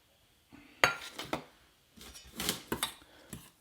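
Jalebi batter with yogurt mixed in a bowl, with scattered clinks and scrapes of a utensil against the bowl in short irregular bursts, close and fairly quiet.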